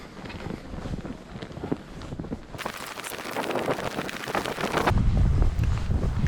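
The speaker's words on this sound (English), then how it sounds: "It's really, really windy out," Strong blizzard wind roars past the microphone on a city street with snow-covered cars, gusting harder and louder toward the end with no one speaking.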